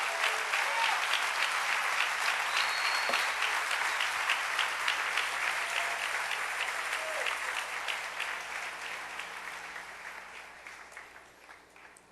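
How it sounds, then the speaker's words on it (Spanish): Loud congregation applause for the King at a church service, a dense sustained wall of clapping that gradually fades over about twelve seconds, with no voices on top. "Dale un aplauso bien fuerte al Rey."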